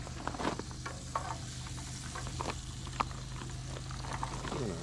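Onions frying on a hot grill at a solo truck camp on a cool night, a steady close sizzle with scattered crackles and pops, faint and continuous with no talking.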